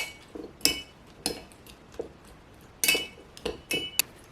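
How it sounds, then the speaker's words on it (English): A spoon rattles and clinks against the inside of a cocktail glass in a handful of bright, irregular taps and short bursts, close and crisp against a quiet background. "I'm just going to give this a stir"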